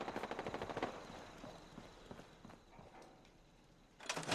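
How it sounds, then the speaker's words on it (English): Turrets firing in Fallout 4 let off a fast, rhythmic burst of shots in the opening second, then fade to quiet game ambience before a second short volley at the end. "Oh, we got turrets."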